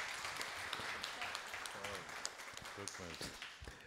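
Audience applause at a World Disability Day event with a band, a moderate steady clapping bed with voices talking and calling out over it near the middle and end.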